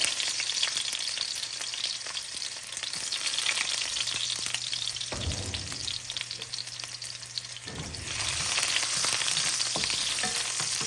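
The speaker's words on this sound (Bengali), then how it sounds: "আমি আগে রসুন কুচিটা দিয়ে দেব।" Chopped garlic frying in a pan for a spinach stir-fry, a dense, continuous sizzle heard up close that swells louder near the end, with faint stirring underneath and no speech.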